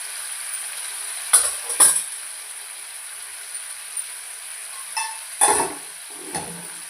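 Spices such as coriander and garam masala are stirred into a dish frying in a pan, a soft continuous sizzle broken by a few sharp scrapes and clanks of the spoon against the pan.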